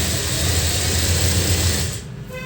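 A sewing machine stitches a folded churidar hem in a fast, steady whir, close and loud, then slows and stops near the end.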